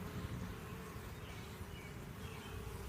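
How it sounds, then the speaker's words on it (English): Bees buzz busily around an active backyard hive, a dense, continuous droning hum of many insects close by, soft overall and unbroken by voices. "bees are just going nuts in there"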